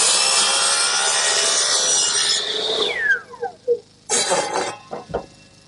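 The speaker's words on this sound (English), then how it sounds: "I'm back over at the miter box, which I'll set on 4 degrees. Cut one end of the chute" A hand saw in a miter box set at 4 degrees cuts through the end of a wooden chute with steady rasping strokes close by, then stops, followed by a few short knocks and scrapes of wood.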